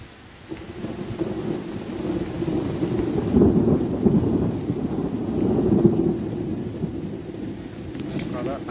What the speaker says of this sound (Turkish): Burada aşırı derecede gök gürültüsü var.